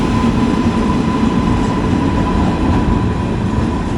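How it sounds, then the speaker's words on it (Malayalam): Netravati Express, train 16346 from Thiruvananthapuram Central to Lokmanya Tilak Terminus, hauled by locomotive 30367, rolls past with a loud, steady roar of wheels on rail and faint clatter, with no voices. "തിരുവനന്തപുരം സെൻട്രലിൽ നിന്നും ലോക്മാന്യ തിലക് ടെർമിനസ് വരെ പോകുന്ന നേത്രാവതി എക്സ്പ്രസ് ആണ് കയറുന്നത്."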